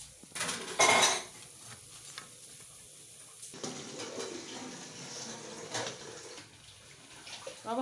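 Freshly fried kadhi pakoras are lifted from the pan onto a plate, with a few sharp clinks of metal utensil on cookware and a faint background sizzle.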